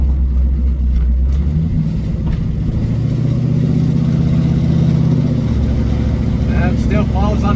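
Plymouth Satellite V8 car engine idling low and then building into a loud, close rev with a steady rising drone, stumbling slightly as it takes gas, while people talk over it inside the car.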